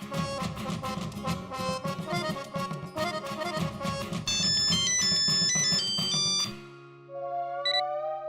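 A mobile phone plays a bright melodic ringtone, with repeated tones over a rhythmic backing, followed by a shorter sustained tone phrase and a couple of high beeps.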